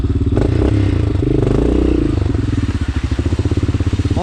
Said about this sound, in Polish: motorki odpoczęły, ochłodziły się można jeździć